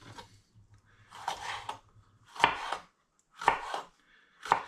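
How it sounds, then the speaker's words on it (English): Knife chopping a deseeded vegetable finely on a cutting board, a run of sharp, close, irregular strikes in quick clusters with short pauses between. "what I want to do now is to chop this quite finely"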